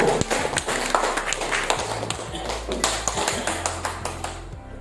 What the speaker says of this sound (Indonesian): Tepuk tangan dulu Bapak Ibu.